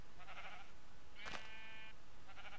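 A video game sheep bleats once faintly over a steady background hiss, among a few other brief soft game sounds.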